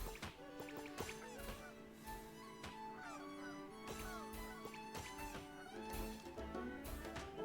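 Geese and ducks honk and chatter continuously in a Genshin Impact scene where birds are fed popcorn, many overlapping calls layered over background game sounds.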